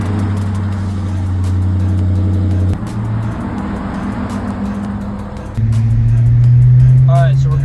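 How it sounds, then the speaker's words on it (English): Dodge Charger RT on a test drive, its engine holding a steady low drone that dips briefly, then swells louder as it accelerates near the end, heard from inside the car with road noise. "Let's take it on a test drive and let's see how she rides."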